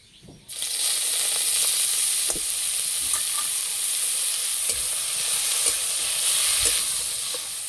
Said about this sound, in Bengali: কপি ভালো করে ভেজে নিয়েছি